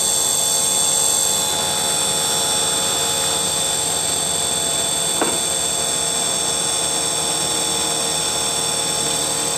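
An electric motor driven by an ABB inverter runs as its speed is lowered, a steady high-pitched whine with hum throughout, loud and continuous, with no talk.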